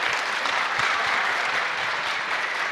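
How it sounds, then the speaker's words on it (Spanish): A church congregation at a Sunday service in La Paz, Bolivia, claps steadily and densely for the whole stretch. The applause sounds full and close, with no pause. "Vamos a aplaudir un poco más, aplausos"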